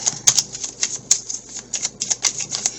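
Tarot cards shuffled by hand, a rapid run of crisp papery flicks and riffles in uneven bursts, close and fairly loud, with no voices.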